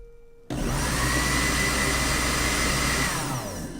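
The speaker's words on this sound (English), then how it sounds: "Did you want to hear the blender?" A kitchen blender switches on abruptly and runs at full power with a loud, steady roaring whir, then drops slightly in pitch and volume near the end as it winds down.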